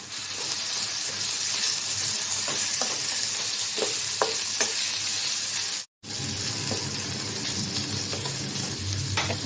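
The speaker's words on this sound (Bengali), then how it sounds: "এখন এই যে শুটকি দিয়ে দিলাম, শুটকিটাও ভেজে নেব পেঁয়াজের সাথে।" Dried fish fries with onions in a pan, a dense, continuous hiss with scattered stirring scrapes and a brief cut to near silence partway through.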